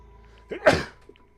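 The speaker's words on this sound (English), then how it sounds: "I'm going to sneeze" A single sharp sneeze bursts out close to the microphone, a quick intake followed by an explosive burst, then quiet.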